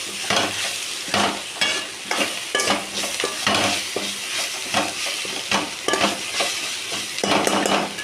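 Drumstick leaves and curry leaves sautéing in a pan, with a steady sizzle and frequent scraping stirs of a spoon against the pan, close and continuous.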